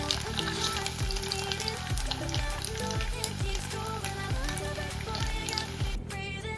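Pieces of tofu fry in hot oil with a continuous crackling sizzle, dense and fairly close, steady throughout with a low rhythmic thumping in the background.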